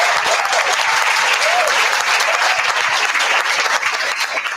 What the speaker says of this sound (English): give them one more round of applause